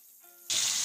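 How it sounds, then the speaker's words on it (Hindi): Beef hits hot oil in which onions were browned for nihari: a quiet moment breaks into a sudden, loud, steady hiss of frying that carries on to the end. "बीफ को मैं अच्छी तरह से फ्राई कर लूँगी, तकरीबन 3 से 4 मिनट।"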